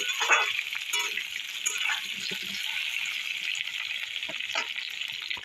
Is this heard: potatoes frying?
yes